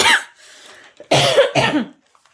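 A few harsh, close coughs in separate bursts, with short pauses between them.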